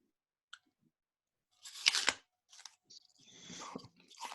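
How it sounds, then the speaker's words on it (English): Someone bites into and chews an apple close to a podcast microphone, making quiet, wet crunches in irregular bursts against near silence. "You're chewing into that apple very"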